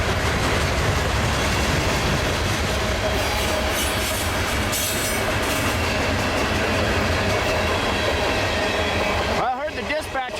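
A long Union Pacific mixed freight train rolls past close by, a loud continuous rumble of wheels and clattering cars with occasional squeals, fading at the end.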